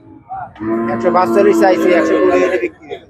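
A cow at Betaga cattle market in Bagerhat lets out one long, loud moo close by, rising and sustained for over two seconds, with faint market voices around it.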